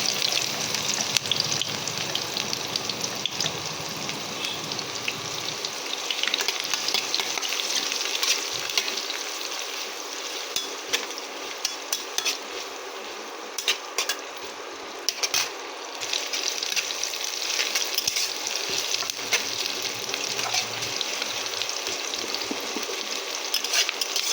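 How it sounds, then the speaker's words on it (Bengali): Onion fries with whole cumin seeds in hot oil for a Bengali yardlong bean and fish head chorchori, giving a steady close crackling sizzle throughout with occasional stirring scrapes and no talking. "প্রথমেই ফোড়নে দিয়ে দিয়েছি গোটা জিরে, তারপরে দিয়ে দিচ্ছি পেঁয়াজ"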